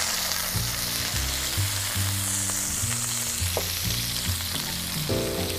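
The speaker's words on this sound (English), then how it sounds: "We're going to saute our tuna on both sides. We can add our scallops to it." Tuna and scallops sauté in a hot pan for fish stew, giving a loud, continuous sizzle under a low rumbling hum, with no talking.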